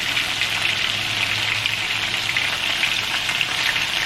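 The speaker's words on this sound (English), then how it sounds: "I brown my meat." Turkey necks browning in a hot pan give a loud, steady, dense sizzle that holds evenly throughout, close up and with no voices.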